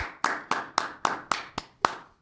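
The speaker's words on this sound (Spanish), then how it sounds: "Un aplauso, doctor." Seven slow, evenly spaced hand claps ring out clearly, each sharp and close, from a small audience welcoming a guest speaker at a legal seminar, ending in silence.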